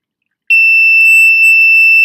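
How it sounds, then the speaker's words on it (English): A liquid level indicator with metal prongs, hooked on a cup as water is poured in, gives a loud continuous high-pitched electronic beep that starts abruptly after a moment of silence and holds steady. "that beep signals you as to when you are 3/4 of the way up the cup"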